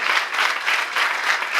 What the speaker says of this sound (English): So let's clap for the Outlook girls.